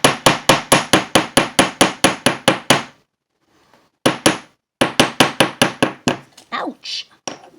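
A hammer taps wire flat for a paper clip in quick, evenly spaced, bright metallic strikes, about a dozen in a row, then a pause and a second burst of taps followed by softer scattered knocks.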